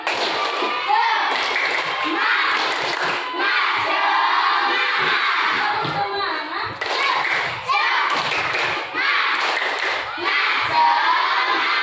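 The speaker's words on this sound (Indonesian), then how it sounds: "Tepuk semangat" A class of children performing a rhythmic spirit clap routine in a school setting, bursts of group clapping and thumps mixed with children's shouting and chatter, loud and near throughout.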